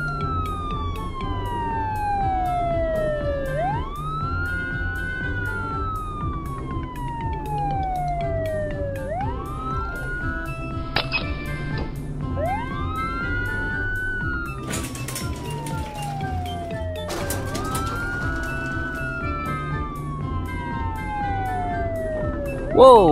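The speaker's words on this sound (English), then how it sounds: "This is a police car. It patrols the city." A cartoon police car's siren wails on and on, loud and steady, rising and falling in long repeated sweeps over a busy background, with a couple of sharp bright blips along the way.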